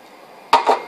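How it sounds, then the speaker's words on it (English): Clanging building site noise in the background during indoor cable work, two sharp metallic knocks close together standing out above a low steady hum. "Sorry about the noise, it's the building site."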